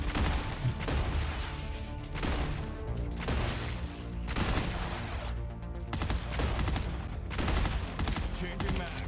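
Sustained gunfire in the sci-fi video game StarRupture, with bursts of automatic fire repeating densely across the whole stretch, loud and close, over a constant background of game sound.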